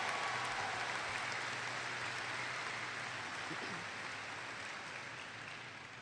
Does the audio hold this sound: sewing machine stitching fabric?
no